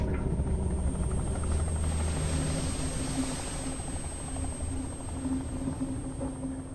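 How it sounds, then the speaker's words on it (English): A helicopter in the video game Dredge drones steadily with a rotor buzz as it flies away. It stays fairly distant and fades slightly near the end, with no talk. "Helicopter flying away immediately."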